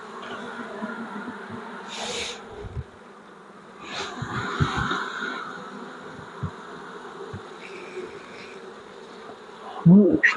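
Honey bees drone steadily at a hive, a close, continuous buzz with a few louder bursts and faint handling knocks.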